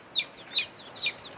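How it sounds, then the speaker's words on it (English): Chickens in a small village cluck close by, three short sharp calls at a steady interval over a quiet background. "There is chickens"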